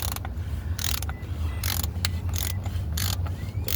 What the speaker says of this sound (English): Till it connects, then just start ratcheting it back in